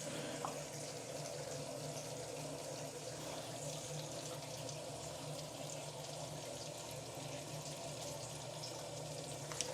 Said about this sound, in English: It's running down really fine.